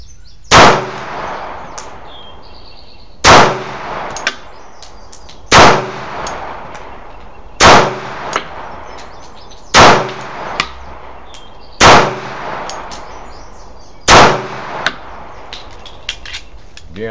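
A Rock Island Armory 1911 pistol fires seven sharp, loud shots at a shooting range, spaced evenly about two seconds apart, each with a short ringing decay.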